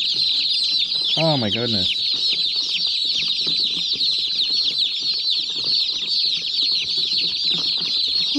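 Dense flock of chickens on a farm clucking and chirping continuously, with a brief louder squawk early on and a person's exclamation over the busy, steady chorus.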